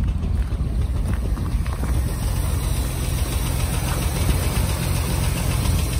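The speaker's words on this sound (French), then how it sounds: "le petit bruit que vous entendez, c'est une chicane dans l'échappement qu'on résoudra." A 1967 Austin Healey 3000 MK3 BJ8 with a stainless steel exhaust idles steadily, its low rumble carrying a faint rattle from a loose exhaust baffle, with some wind noise and no talking.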